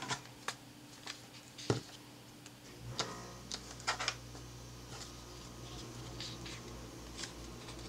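Paper is trimmed by hand while decorating a Filofax planner, giving a few crisp, close snips and light paper rustles scattered over a quiet room.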